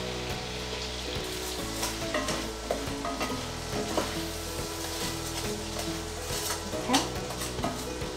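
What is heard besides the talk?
reindeer meat frying in a pan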